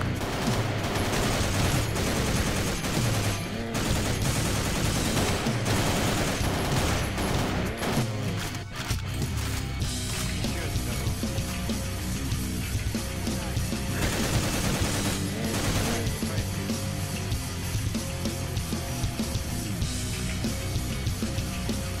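Sustained, loud automatic gunfire in the Half-Life mod Paranoia, with rapid bursts of shots firing almost continuously and echoing booms throughout, without any speech.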